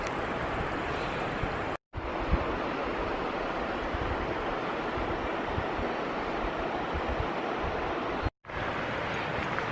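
A river in Kahurangi National Park rushes with a steady broadband roar, close and continuous, with two brief silent cuts.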